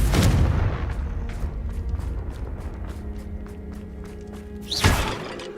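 Confringo blasting spell in Hogwarts Legacy: a sharp explosive crack with shattering debris, a sparkling magical ring-out, then a second burst near the end.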